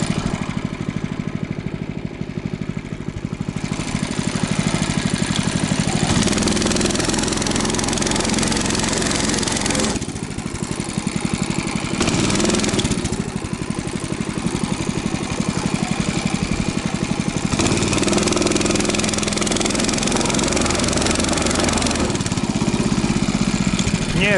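Albatros motorized towing sled engine running steadily in deep snow, a loud continuous droning whine with slight shifts in pitch and load, close by, with no talking.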